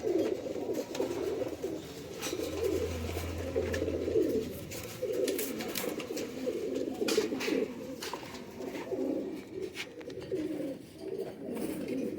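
Pigeons cooing close by, soft repeated throaty coos rolling on continuously with a few faint chirps and background noise, no speech.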